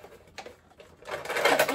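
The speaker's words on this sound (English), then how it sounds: "what is it? A vacuum." A toy vacuum cleaner whirs in short, faint bursts, then runs louder and more continuously at close range.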